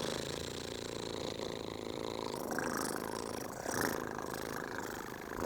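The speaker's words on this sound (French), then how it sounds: "C'est le chat qui ronronne." A cat purrs up close, a continuous rumbling vibration with soft rhythmic pulses, steady throughout.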